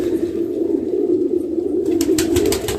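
A pair of pilang pigeons coo in a low, steady hum close by, with brief scratchy rustles near the end and no speech.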